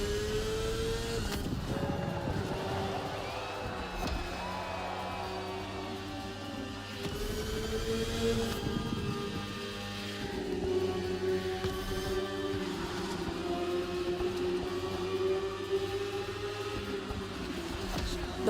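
A BMW S1000RR superbike in the racing game The Crew Motorfest, its engine whining steadily and rising and falling as it revs and shifts, with faint background noise and no talk.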